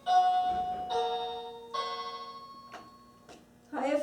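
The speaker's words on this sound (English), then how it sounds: "as soon as she hits the talk button, the doorbell sound should stop." Intercom doorbell chiming over and over in a plant nursery, a steady electronic ding tone repeating at a regular pace with a short gap between rings, fairly clear and close, with a brief burst of voice near the end.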